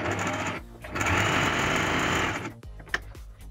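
A sewing machine stitching fabric for a homemade scrunchie runs in a steady, dense mechanical whir for about two seconds, then stops, followed by a few quiet handling taps and a sharp click.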